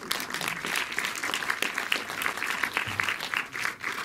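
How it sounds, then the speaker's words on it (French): A cinema audience applauds steadily at a film premiere screening, a dense, continuous clatter of many hands filling the room throughout. "Oui, vous pouvez l'applaudir."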